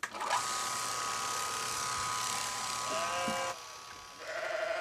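Sheep bleat at a sheep shearing shack in New Jersey, a couple of short wavering calls near the end over a steady hum of machinery or shearing noise, with faint voices in the background.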